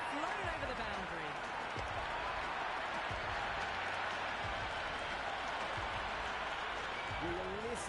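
A large stadium crowd roars and cheers continuously in the cricket video game Cricket 26, a dense wall of noise that stays loud throughout.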